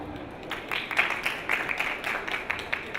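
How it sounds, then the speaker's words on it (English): A round of applause from an audience for the speakers at the close of a talk event, steady scattered clapping of moderate loudness lasting about three seconds. "Let's give them a round of applause."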